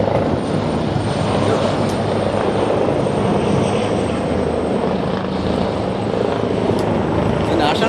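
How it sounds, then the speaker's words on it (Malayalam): A helicopter flies overhead during National Day rehearsal flights in Qatar, its rotor and engine giving a loud, steady drone that holds throughout without fading. "ഹെലികോപ്റ്റർ ഇങ്ങനെ മോളിൽ കൂടെ പറന്ന് നടക്കുന്നുണ്ട്"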